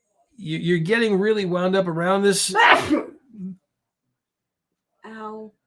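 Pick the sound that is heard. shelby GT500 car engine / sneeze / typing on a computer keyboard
sneeze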